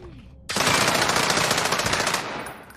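Sustained automatic gunfire in Call of Duty Warzone, a loud continuous burst of rapid machine-gun shots starting abruptly after a quiet moment and running for about two seconds before tapering.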